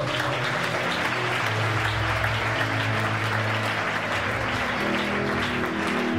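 A church congregation at a Sunday service applauding in praise, a dense, continuous clapping that fills the room at steady loudness throughout, with low tones and faint voices sounding underneath.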